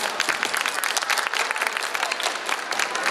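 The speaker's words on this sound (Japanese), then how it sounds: "じゃあ改めてあの3名の方に拍手の方お願いいたします。" An audience at a community-activities panel event applauds three speakers, a lively, continuous patter of many hands clapping at close range, steady throughout with faint voices underneath.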